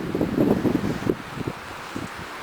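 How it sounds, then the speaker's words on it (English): Gusty wind buffets the microphone on a forest hike through heather and young huckleberries in Wharton State Forest, a rumbling low roar that swells in the first second and then settles into a steadier, softer rush. "maybe that wind might be loud on the microphone on this thing"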